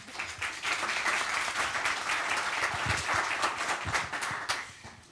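Dense audience applause fills a conference hall at a corporate brand event, a steady wash of many hands clapping at moderate loudness throughout, alone without speech.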